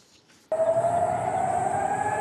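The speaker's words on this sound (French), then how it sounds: "Aujourd'hui encore, ces sirènes retentissent en Israël." An air raid siren in Israel starts abruptly and holds a steady, loud wailing tone, sustained without a break for the rest of the short stretch.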